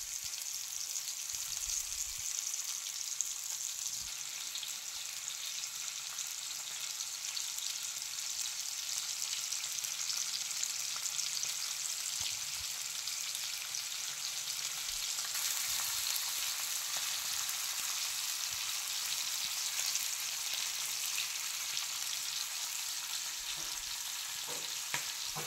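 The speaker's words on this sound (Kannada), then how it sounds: "ಕೇಳುತ್ತಿದೆಯಲ್ವಾ ಬಾಂಗ್ಡಾ ತವಾ ಫ್ರೈ? ನೋಡಿ ಯಾವ ರೀತಿಯಾಗಿ ಫಿಶ್ ಸೌಂಡ್ ಮಾಡ್ತಾ ಇದೆ." Mackerel (bangda) shallow-frying in a little oil on a tawa, a steady, bright, hissing sizzle that runs continuously for the whole stretch, close and even, with a few faint knocks underneath.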